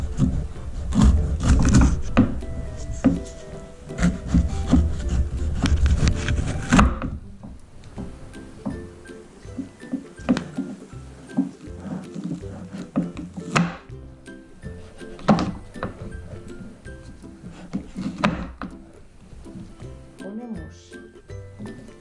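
Knife cutting green pepper on a wooden board in a home kitchen, a run of close, sharp chopping thunks in irregular rhythm, busier and louder at first, then sparser taps with occasional clinks.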